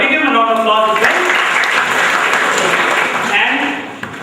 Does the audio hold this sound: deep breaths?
no